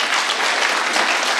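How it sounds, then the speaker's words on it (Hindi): Audience applause at a Delhi mushaira and kavi sammelan poetry gathering, a dense, steady clapping from a large crowd that fills the whole short stretch at a consistent, fairly loud level. "मैं चाहता हूँ एक बार जरूर ताली बजाते हैं आप"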